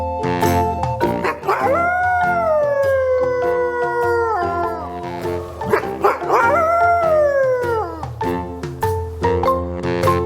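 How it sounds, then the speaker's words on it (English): A wolf howls in long, rising and falling wails, two drawn-out calls with layered overtones set against background music, loud and close, with no talk. "How does a wolf make sound?"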